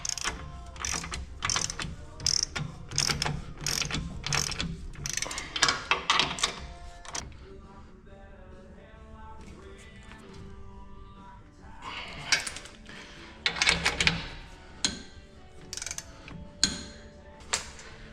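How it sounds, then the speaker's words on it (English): A large torque wrench tightens U-bolts on the rear of a 2022 Toyota Tacoma during a Bilstein shock install, giving rapid ratcheting clicks in bursts separated by quieter pauses, close and fairly loud. "Torque wrench, torque wrench."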